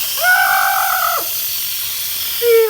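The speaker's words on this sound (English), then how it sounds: "To instant release the steam from the system, you just push this right here." An Instant Pot pressure cooker's steam release vents loudly up close, a steady hiss joined by a whistling tone that fades after about a second and returns briefly near the end.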